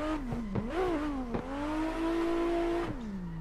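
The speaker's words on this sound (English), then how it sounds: "I'm in third gear just banging red line." A race car in Assetto Corsa revs hard to redline in third gear, its engine note climbing and holding a loud, steady harmonic whine before dropping off briefly near the end, with no talking.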